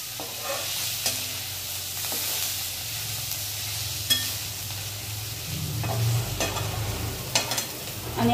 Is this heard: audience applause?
no